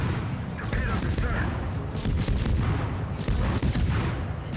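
Destroyer USS Forrest Sherman firing naval guns at an enemy ship in World of Warships, with repeated heavy booms and rumbling blasts throughout, loud and close, and a voice talking over them.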